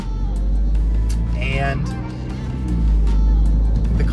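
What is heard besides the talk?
Mini Cooper engine with active exhaust opened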